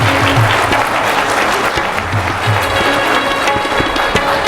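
Loud, dense applause from a crowd at a yoga day event, continuous vigorous clapping filling the whole stretch with no gaps.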